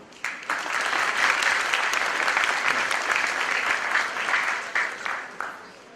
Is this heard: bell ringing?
no